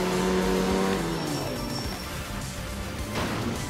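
Rally car in the video game art of rally sliding through a drift, engine droning steadily with tonal whine and tire scrub throughout, loud and continuous with no talk.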